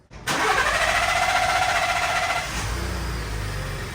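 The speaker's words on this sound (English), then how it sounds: "go ahead and flood the engine, turn it on, and then check for leaks" A Ford F-150 engine cranks and catches right after an oil change, roaring up loudly for a couple of seconds before easing into a steady, slightly quieter idle.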